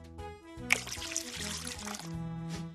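Water being poured into a cup while baking, a close splashing trickle lasting a couple of seconds over soft background music.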